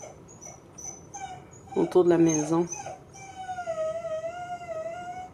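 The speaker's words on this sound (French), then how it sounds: "Ça, c'est mon chien qui pleure à fendre l'âme." A scared dog whimpers and cries during a wind storm around a house, a long wavering whine rising after a brief outburst, with a person talking quietly under it.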